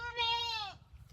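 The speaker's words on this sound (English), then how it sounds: "Give the goats hay." A single short, nasal goat bleat rings out clearly on a small farm, followed by quiet low background rumble.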